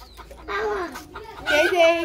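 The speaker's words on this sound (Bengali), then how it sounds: "ওটা ওই যে কালা মুরগিতে ডিম পাতাছে" A black hen that has been laying eggs clucks nearby in two short bursts, fairly loud and close.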